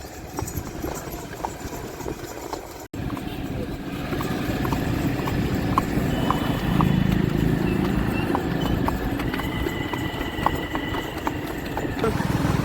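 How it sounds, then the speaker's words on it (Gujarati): A mare walks slowly through a busy market street in Surat, her hooves clip-clopping in a steady, close rhythm over a constant background of crowd chatter and distant traffic. "ધીમે ધીમે ઘોડી જાય છે"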